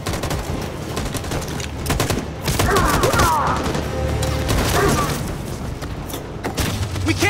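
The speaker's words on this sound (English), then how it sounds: "That machine gun is taking down everything that moves." Sustained automatic machine gun fire with heavy impacts and booms in the video game Detroit: Become Human, dense bursts rolling through a loud battle soundscape, with faint voices underneath.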